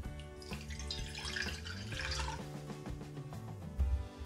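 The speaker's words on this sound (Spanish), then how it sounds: "Miren, aquí tengo una cacerola y lo que vamos a poner aquí primero va a ser el agua." Water trickles and splashes into a saucepan while making a no-bake strawberry pie, a soft, steady pour heard faintly beneath background music.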